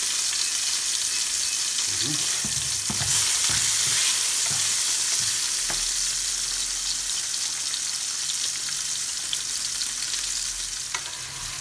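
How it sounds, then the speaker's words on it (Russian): Tomatoes sizzle and crackle loudly in a hot pan over high heat, a steady frying hiss with occasional clinks of stirring and a brief spoken word. "Помидоры обжариваются на сильном огне."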